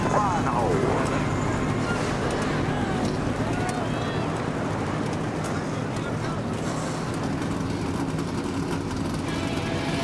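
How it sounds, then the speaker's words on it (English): Forty NASCAR Xfinity Series stock car engines firing up together at Richmond Raceway before a 250-lap race, a dense continuous roar of idling V8s with crowd noise and brief talk mixed in. "40 Xfinity cars fire here at Richmond and are ready to go"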